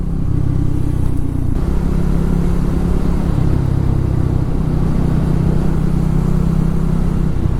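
A Triumph Tracker 400 motorcycle at speed, its engine a steady, loud, continuous drone with low throbbing tones and rushing wind throughout, without breaks.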